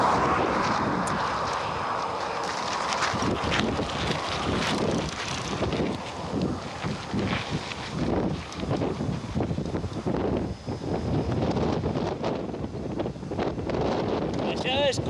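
Headwind buffets a cyclist riding through the desert, a loud, continuous roar of wind on the microphone with gusting swells, while a person talks over it.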